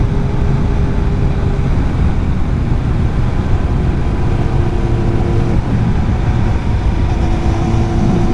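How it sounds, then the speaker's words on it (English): A Kawasaki ZX7R on new tyres drones loudly through corners on a twisty road, its steady engine tone shifting pitch a few times, mixed with strong wind rush and no voices. "Oh God, I love cornering on this bike."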